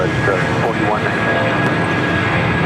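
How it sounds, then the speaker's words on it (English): A United Boeing 757-200 rolls down runway 25 right at LAX, a loud, sustained broadband jet roar close by with a voice faintly talking over it. "we do have that United 757-200 now rolling down 25 right"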